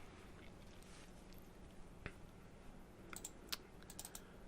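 Quiet computer keyboard clicks, a single sharp keypress followed by a small cluster of light taps, faint and close over low room hum.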